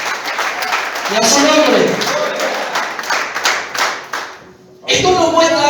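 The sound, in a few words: audience applauding in church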